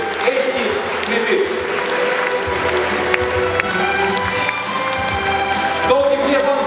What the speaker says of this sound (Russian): Вам громкие и неслабые аплодисменты